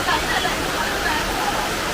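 Heavy rain pours steadily as water fills a pond, a dense, continuous wash of close, loud noise without a break.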